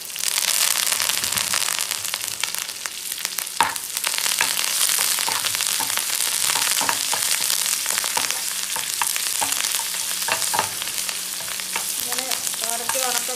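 Dried red chillies, sliced shallots and curry leaves fry in hot oil with fenugreek, giving a loud, steady sizzle with sharp crackles and pops throughout and no talking.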